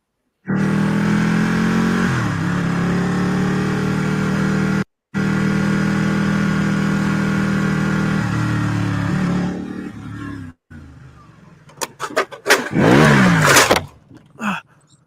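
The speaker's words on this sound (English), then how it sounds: "This is Mike on his Ducati" A Ducati motorcycle engine runs loud and close, holding a steady roar while the pitch swings up and down with throttle blips, then drops back into quieter idle and sharp bursts of revving near the end.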